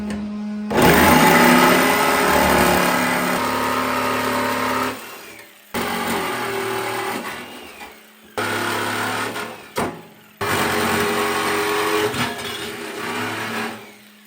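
A power tool cuts a hole for a float pod install, whining loudly in long steady runs broken by brief stops and restarts, close and without talk.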